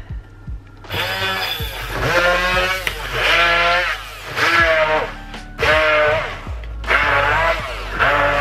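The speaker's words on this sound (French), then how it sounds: "Donc je mixe pardon, jusqu'à ce que j'obtienne une pâte." A kitchen blender pulses through fresh coriander and a garlic clove to make a paste, its loud whirring motor rising and cutting out in about six repeated bursts, with short pauses in between.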